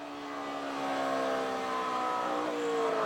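A NASCAR race car at the 2011 Coca-Cola 600 at Charlotte spins into the wall, heard as a steady, moderately loud engine whine that rises gradually over a few seconds, with no talking.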